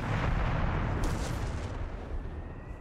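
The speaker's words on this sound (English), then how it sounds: "Krauts have got heavy artillery support." Heavy artillery fire thunders in Company of Heroes 3, a dense, continuous roar of overlapping blasts and rumble with a brighter crack partway through, loud and steady throughout.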